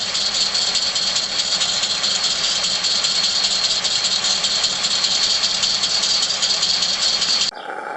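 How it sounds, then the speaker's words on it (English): A scratch-built small 0-4-0 garden steam locomotive running with an altered chuff pipe gives a steady, close, rattling hiss and fast chuffing throughout, changing abruptly just before the end. "Second attempt at altering the chuff pipe. That sounds slightly better now."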